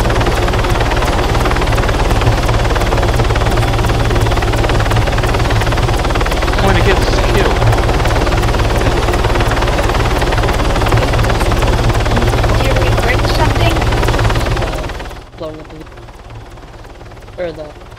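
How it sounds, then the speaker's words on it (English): A helicopter flies in the video game Arma 3, its loud continuous rotor and engine drone filling the scene until it cuts off sharply near the end, with voices talking over it. "Yes, I'm on the chopper."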